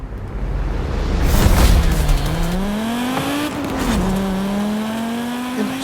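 An Audi Quattro driven in Forza Horizon 5 revs its engine up and down through gear changes, a loud, close, rising and falling engine whine with a brief burst of noise early on and no talking.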